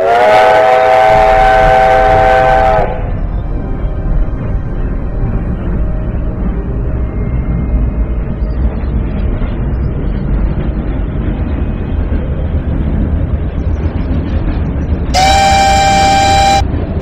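A passenger train pulls into a platform in the Indian Train Simulator mobile game: a loud horn blast opens, then a steady rumbling run of rolling wheels, and a second bright horn sounds near the end.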